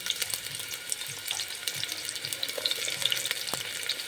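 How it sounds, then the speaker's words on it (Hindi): Chopped onions fry in hot oil for a Kerala-style stew, giving a steady, close, crackling sizzle with fine popping spatters throughout and no talk. "तेल हमारा अच्छी तरह से गर्म हो चुका। अब हम इसमें प्याज डाल देंगे।"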